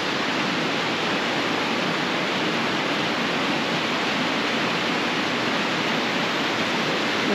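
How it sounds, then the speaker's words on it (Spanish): Waterfalls pour through a rocky canyon, a loud, steady broadband roar of falling water that fills the whole stretch without a break. "Hay más cascadas, vamos, increíble, ¿no?"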